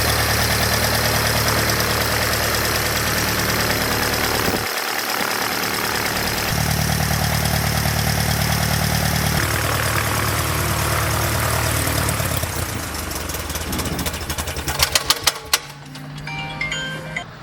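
A Cessna 140 propeller plane's engine runs steadily at idle, loud and close, with a brief dip in tone before it roughens slightly near the end.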